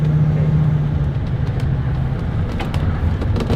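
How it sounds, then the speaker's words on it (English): A Ford Class C RV fitted with a suspension lift kit rumbles loudly through a U-turn, its engine a heavy low drone heard from inside the cab, with light rattles and creaks toward the end. "We're gonna make a U-turn."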